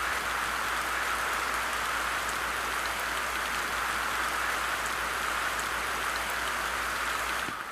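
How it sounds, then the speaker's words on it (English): Steady tropical rain falls on an island, a dense continuous hiss of drops on surfaces, even and close throughout with no voices. "It rains nearly every day on this tropical island"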